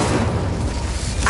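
The Incendio fire spell goes off in Hogwarts Legacy as a brief, loud whooshing burst of flame, a dense roaring blast sustained for about a second.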